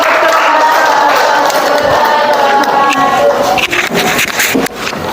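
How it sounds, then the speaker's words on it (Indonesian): A classroom of students claps in a dense, continuous patter after a group presentation, with some chatter mixed in, tapering off toward the end. "Ya, tepuk tangan."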